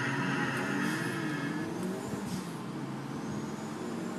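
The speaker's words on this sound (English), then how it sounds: "I'm driving the Sultan, what's it called? The Sultan RS or whatever?" Sultan RS sports car driven in Grand Theft Auto, a continuous engine drone with shifting pitch and tire noise, loud and steady throughout with no talk.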